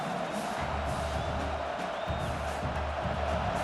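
A stadium crowd in College Football 26 roars steadily on a fourth-down play, a dense, unbroken wall of cheering noise at even loudness with no distinct voices standing out.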